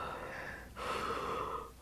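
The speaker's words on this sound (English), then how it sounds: "Nobody breathes like this." A person does deep circular rebirthing breathwork, with one long, close, audible inhale and then another strong breath right after it.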